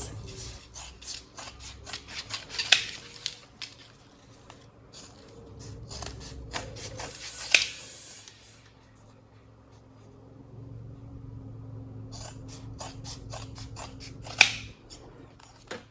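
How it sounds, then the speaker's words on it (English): Scissors cut through an empty chip bag, giving a few sharp, quiet snips spaced several seconds apart over a soft rustle of crinkly plastic. "I'm going to cut it from this side."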